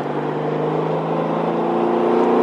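Porsche 911 Targa engine pulling steadily through a run of small turns, a close, continuous drone with a steady low hum that builds slightly in loudness toward the end, heard on its own with no talking.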